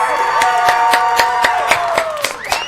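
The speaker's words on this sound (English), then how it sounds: "Can I get one more round of applause for Corruption, guys?" Scattered clapping from an audience at a Schmoedown event, a few sharp claps standing out over a steady murmur of crowd noise and cheering.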